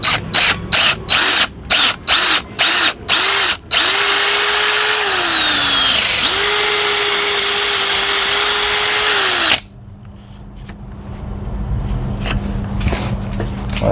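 A cordless power drill backs screws out of glued-up hardwood, starting with about eight short rapid bursts, then a long whining run that dips once, stops sharply, and leaves quiet workshop room noise.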